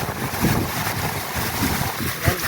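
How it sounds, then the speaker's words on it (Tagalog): Strong wind buffeting the microphone outdoors, a loud continuous roar with rumbling gusts and broadband rushing noise, no voices present. "Lakas ng hangin, oh."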